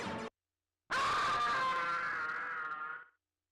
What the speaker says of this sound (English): including Macaulay Culkin screaming in the famous aftershave scene